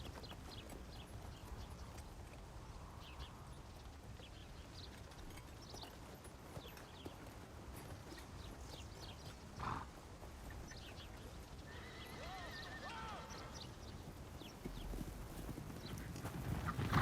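Horse hooves clip-clop faintly and continuously at a distance, with a brief whinny and soft outdoor ambience, growing slightly louder toward the end.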